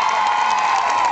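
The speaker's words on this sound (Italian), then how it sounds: "un applauso a Maria Zaffino" A crowd at an outdoor show in Piacenza cheers and applauds for Maria Zaffino, a dense, steady wash of shouts and clapping held close for just over a second, with no clear speech.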